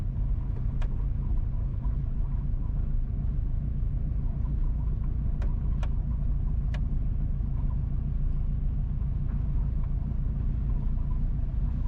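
Car driving west on Boscobel Drive in Boscobel Heights, St. Mary Parish, Jamaica, a steady low road rumble from inside the vehicle with a few faint clicks and no talking.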